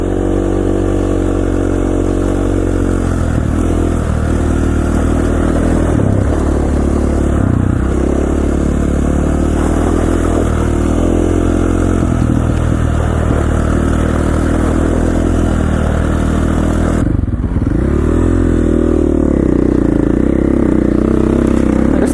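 A KTM 450 XC-F dirt bike rides an icy mountain trail in Idaho's Owyhee Mountains, its engine droning loud and close with steady throttle, small surges in pitch and a rougher dip near the end.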